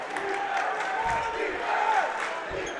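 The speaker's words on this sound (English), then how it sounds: "that one finally got the crowd going" Crowd at a Wisconsin high school boys basketball sectional game, Wauwatosa West against Brookfield Central, roars after a made shot, a dense sustained cheer filling the gym with whoops and shouts over a steady wash of noise.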